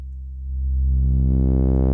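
A steady buzzy synth tone grows brighter as its filter opens, the sound rising from dull and muffled to fuller and louder, then holding.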